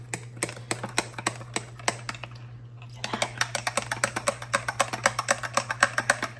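Rapid, regular clinking taps of a spoon stirring hot chocolate in a mug, continuing steadily with a brief lull partway through, close and fairly crisp.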